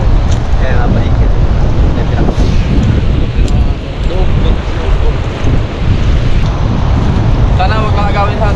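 Big sea waves wash and slap against a small boat in heavy surf, a loud, constant roar of water and gusting wind buffeting the microphone, with someone talking faintly through parts of it.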